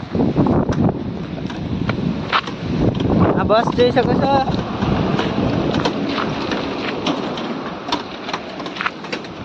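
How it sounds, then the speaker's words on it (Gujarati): Strong storm wind buffets the microphone in a village, a loud, gusty roar with crackling bursts and rattling debris, while someone talks over it. "તો તમે જોઈ શકો છો કેટલો બધો પવન અત્યારે વાવાઝોડા જેવા દ્રશ્યો અત્યારે આવી રહ્યા છે"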